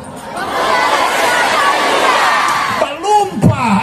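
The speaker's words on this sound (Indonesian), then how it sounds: "semua melompat teriak Papua dahsyat" A large crowd at an outdoor religious prayer gathering in Papua roars with sustained cheering and shouting, loud and dense, before tapering into scattered voices and whoops at the end.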